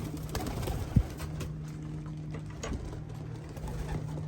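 Pigeons in a racing loft coo softly and steadily, a low murmuring drone running throughout, with a single sharp knock near the start.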